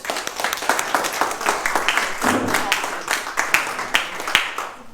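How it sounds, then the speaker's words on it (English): A small audience claps for a speaker at a business talk, with individual hand claps standing out distinctly in an uneven patter rather than a dense roar, and a brief low murmur partway through. "a round of applause, please"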